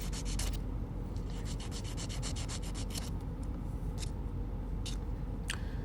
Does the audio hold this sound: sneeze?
no